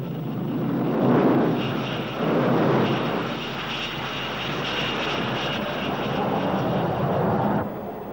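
A McDonnell Douglas F-4 Phantom, a carrier-based interceptor with two J-79 jet engines, roars steadily and loudly for several seconds, its broad jet noise swelling and holding with no voices over it.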